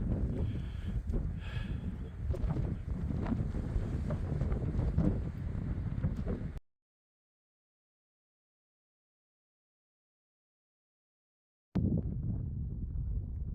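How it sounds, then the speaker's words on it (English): Wind gusts buffet the microphone on an exposed hiking trail near a lighthouse, a loud continuous low roar that cuts out completely midway, then returns just as strong. "Wind is blowing."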